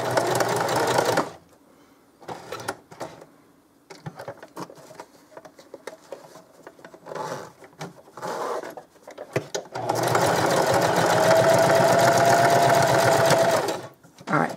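A sewing machine stitches through painted canvas fabric for a zippered pencil pouch, running in a fast steady whir in loud bursts with pauses and handling noises between them.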